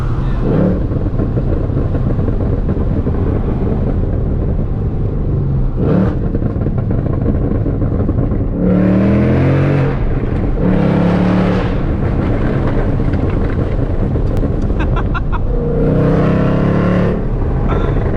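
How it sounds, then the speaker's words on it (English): A loud, powerful 800hp Whipple-supercharged Ford Mustang engine roars continuously, with several sharp revving surges climbing in pitch and dropping back, heard close and dominating throughout. "It revs out so freaking fast."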